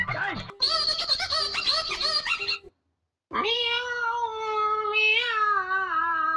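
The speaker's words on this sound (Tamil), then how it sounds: "பூனையா?" A cat meows in two long, loud, wavering cries close by, separated by a brief silence.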